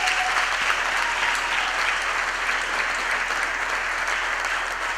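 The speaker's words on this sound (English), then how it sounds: "Let's give him a big round of applause" A large graduation ceremony audience claps in sustained, even applause that fills the hall, dense and steady throughout with no pauses.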